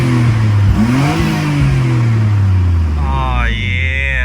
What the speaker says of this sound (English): the Midori titanium exhaust sounds so good